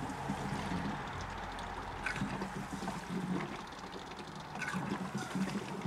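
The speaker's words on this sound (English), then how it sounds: "it just pumped all of the petrol that I had put into the tank back into this can in the bonnet" Fuel pump on a Porsche 928 returning petrol into a can in the engine bay, a continuous low trickling, gurgling flow under a faint mechanical hum, fairly quiet and steady.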